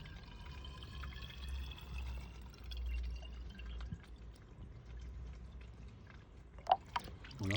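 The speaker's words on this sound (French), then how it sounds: "Je mets l'eau du robinet" Tap water pours steadily into a Bestway pool cover, a continuous low splashing wash with scattered drips and a couple of sharper splashes near the end.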